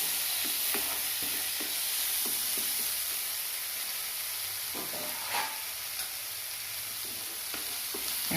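Two small tomatoes sauté in hot oil in a pan for egg curry, a constant close sizzle and hiss with occasional stirring scrapes and taps throughout.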